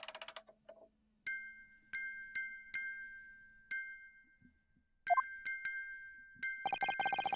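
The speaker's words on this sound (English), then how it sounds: "Just what relevance do you propose this woeful chiming has on this case?" Music box chiming in the video game The Great Ace Attorney: clear, sparse metallic notes ring out one at a time with long sustained tones and short pauses, then end in a quick, rapid flurry of notes.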